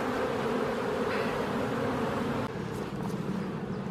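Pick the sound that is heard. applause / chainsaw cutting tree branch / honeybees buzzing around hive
honeybees buzzing around hive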